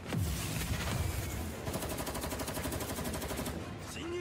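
Rapid anime gunfire from Saga of Tanya the Evil rattles in dense bursts of overlapping shots amid a busy battle soundtrack, fairly quiet overall with faint voices mixed in.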